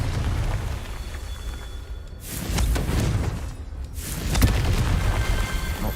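A Confringo spell explosion in a video game goes off as two deep booming blasts a couple of seconds apart, each with a rumbling crackling tail over steady background noise.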